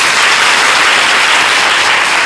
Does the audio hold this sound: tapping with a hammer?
no